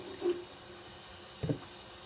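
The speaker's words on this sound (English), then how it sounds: "the reason we use really hot water is because the buffing compound is like wax and grease based, so it melts really well" Hot tap water rinses soap and wax-based buffing compound off a Buck 110 knife at a sink, heard as two faint, brief splashes separated by quiet.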